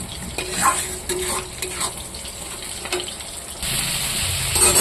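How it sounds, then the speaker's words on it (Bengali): Spices with chili and turmeric powder fry in a pan, a close, even sizzle broken by scraping stirs, with a brief watery gush near the end. "এটাও দিয়ে একটু ভাজা করবো।"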